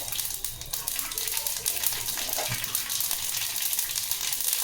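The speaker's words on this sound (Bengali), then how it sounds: "দেখুন সরষেগুলো ফুটে উঠছে।" Mustard seeds spluttering in hot oil with bay leaf for a homemade tomato chutney, a dense, steady hiss and crackle that fills the clip evenly, close to the pan with no pauses.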